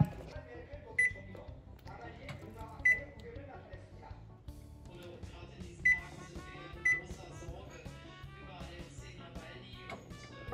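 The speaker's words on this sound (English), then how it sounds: "Preheat conventional oven to 350." A conventional oven's control panel gives several short, sharp beeps, spaced unevenly, as it is set to preheat to 350, fairly quiet over a low kitchen background.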